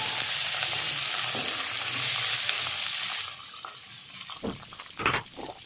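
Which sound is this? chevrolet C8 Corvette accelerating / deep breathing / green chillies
green chillies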